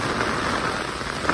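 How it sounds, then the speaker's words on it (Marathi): Heavy rain pours down steadily on an open riverside at night during a fishing trip, a dense, continuous hiss of drops on surfaces, close and loud throughout with no pauses. "पाऊस बघा किती मोठा जोरात येईल"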